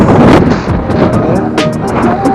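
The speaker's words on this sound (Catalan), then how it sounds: "fa molt de vent i tot i que sigui cara avall la via verda, no puc pedalejar molt bé pel vent" Strong wind gusts buffet the microphone while cycling downhill on a greenway, a loud continuous rumbling roar with small rattles and ticks over it, no speech.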